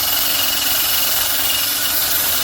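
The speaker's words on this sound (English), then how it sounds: "I got a wire brush wheel on my drill, and I am going to literally try to buff out as much of this stuff as I can" A drill spinning a wire brush wheel against a car wheel gives a steady, loud, high-pitched whirring grind that runs without a break, close up and with no talking.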